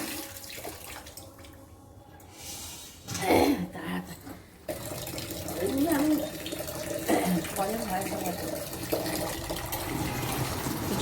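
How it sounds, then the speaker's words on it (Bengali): Tap water running into a jug, a continuous close gushing flow whose tone shifts as the vessel fills, with a short break partway through before the stream resumes steadily. "জগটা ভর্তি করে নিই।"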